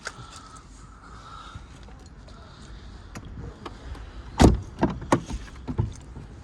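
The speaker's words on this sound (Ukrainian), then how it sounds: "Задні склопідйомники" The rear power windows of a 2003 Volkswagen Golf 4 with a 1.6 petrol engine run with a soft, steady motor whine, followed by a few sharp close clunks and knocks inside the car.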